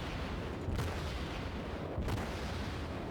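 Main guns of the Japanese cruiser Chikuma in World of Warships going off twice, about a second and a half apart, as deep booms over a constant low rumble, moderately faint, with no voices.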